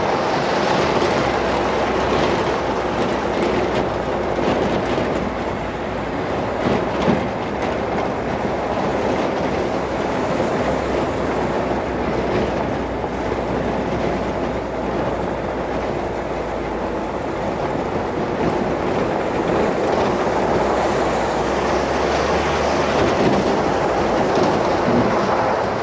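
Steady road noise from a Nissan D21 Hardbody truck on the move, a continuous broadband rumble and hiss of tires and cabin vibration lasting throughout with no speech.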